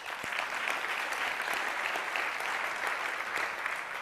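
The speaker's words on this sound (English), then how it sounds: "let's give him a round of applause" Warm, sustained clapping from a conference audience, a dense even patter of many hands at moderate distance, with no one speaking over it.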